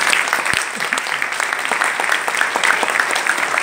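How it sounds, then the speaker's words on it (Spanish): Applause from the audience at a Bogotá music and social transformation seminar, a dense, steady patter of many hands clapping at close range, with scattered individual claps standing out and no speech over it. "les quiero pedir un aplauso a ese único apoyo que nosotros hemos tenido en esta historia de un vecindario."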